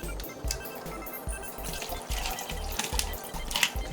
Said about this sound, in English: Pour until it submerges most of the ice.